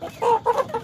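KUB chickens, an Indonesian breed, cluck in a few short, close bursts, with no talking.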